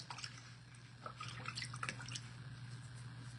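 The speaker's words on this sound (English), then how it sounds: "I'm going to stick this in my water." Water sloshes and drips as a glass etching stencil is dipped into a bucket of water, soft splashy bursts over a low steady hum with no talking.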